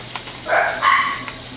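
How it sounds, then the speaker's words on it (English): Puppies yip and bark briefly, with a couple of quick, close, high-pitched calls between faint clicks, at a backyard grilling session. "Our puppies are going crazy, but that's because they're nuts, so don't mind them."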